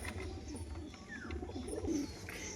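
Pigeons coo in low, soft, rolling calls among a loft of crested sakdum and kamaga pigeons, the murmuring steady throughout with a faint chirp or two above.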